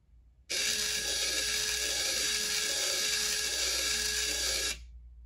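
A 35 kg servo motor spins counterclockwise at roughly 72 RPM during a speed test, a steady high electric whine with a faint pulsing rhythm that starts abruptly, holds for about four seconds, then cuts off.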